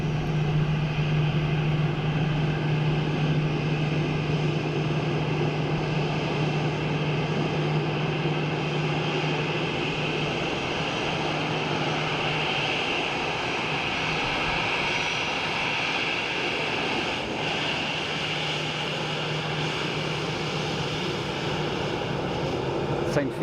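Airplane engines roar steadily at Dublin Airport, a loud continuous drone with a low hum running throughout, heard up close with no talk over it.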